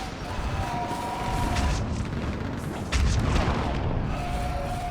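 Fire support explosions in the sci-fi shooter Mass Effect 3: deep rolling booms and blasts pound continuously, loud and near, with a stronger impact midway, over a steady battle din.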